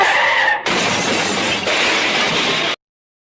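A loud, sustained crash sound effect of a motorcycle hitting a curb, shattering and scraping debris for a couple of seconds, close and harsh, then cutting off abruptly to silence.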